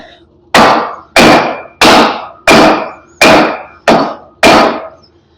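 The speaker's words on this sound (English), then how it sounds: "you get your seal installation tool, which is this 4x4 block, and this hammer" A hammer strikes a 4x4 wooden block seven times in a steady, even rhythm, seating a seal during a Chevy C10 brake upgrade; each blow a loud, close, sharp knock with a brief ring.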